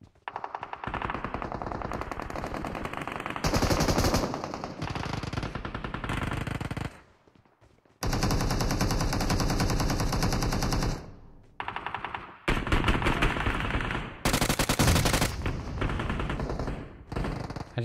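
Sustained bursts of automatic gunfire in PUBG Mobile, loud and close, rattling in long rapid strings separated by short gaps of near silence.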